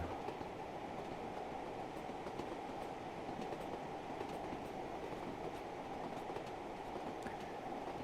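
A steam train in Train Sim World 3 rolls along, heard from the quieter end of the carriages as a steady, loud rumble with continuous rail noise throughout.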